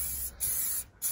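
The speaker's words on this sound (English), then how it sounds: "It's in an aerosol, so literally just spray on." An aerosol can of plastic trim spray sprays in steady hissing bursts, two long sprays with brief pauses between them, close to the listener.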